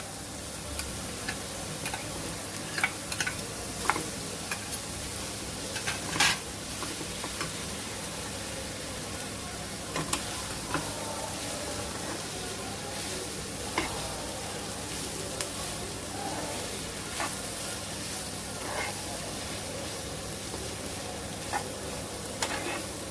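Boiled potato and vegetables being stirred in a frying pan for a spinach veggie noodle frankie, a quiet continuous sizzle with light scraping and tapping of a spoon at irregular intervals.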